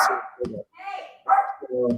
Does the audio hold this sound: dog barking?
yes